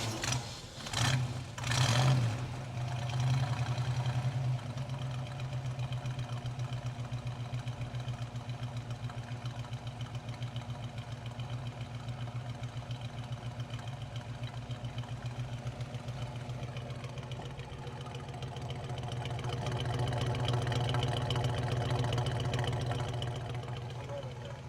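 A 1959 Corvette C1 with a 283ci V8 idles at the exhaust, a steady low rumble close to the microphone after a few short blips at the start, swelling slightly louder toward the end.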